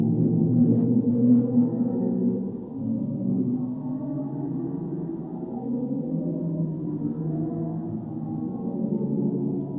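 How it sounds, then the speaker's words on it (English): A deep, murky drone standing in for a black hole's sound, sonified data released by NASA, rumbling and swelling continuously for the whole stretch with no voices. "NASA released a recording of what a black hole sounds like"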